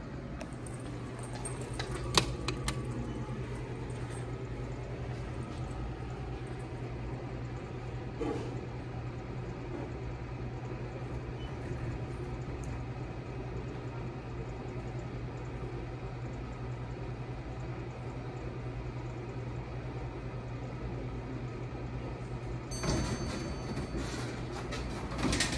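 An original Westinghouse hydraulic elevator at a JCPenney in Aventura Mall hums steadily with a low drone throughout, with brief clunks and door-sliding noises near the start and end.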